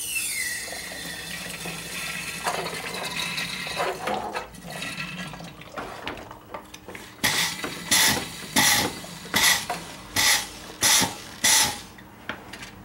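Hand-pumped vacuum tool drawing vacuum on a car cooling system during a radiator replacement, with hissing air and a run of rhythmic ratcheting pump strokes, close and alone.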